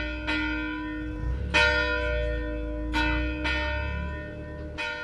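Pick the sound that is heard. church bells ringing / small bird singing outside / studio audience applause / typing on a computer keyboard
church bells ringing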